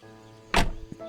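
A car being opened in the Painscreek Killings video game gives one short whooshing mechanical burst, close and clear, followed by a small knock, over a quiet ambient hum.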